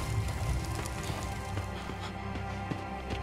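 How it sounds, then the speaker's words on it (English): Oversized hail hammering down in The Fidelio Incident video game, a dense steady patter of hard impacts with sharper knocks mixed in, filling the scene without a break. "Why would there be localized hail? That's weird. That's gargantuan hail, by the way."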